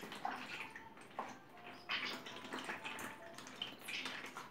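A gum tragacanth mixture for ebru marbling is strained through a close-woven cloth bag, giving a steady soft trickle and drip of thick liquid with occasional wet squelches, close and quiet, with no voice.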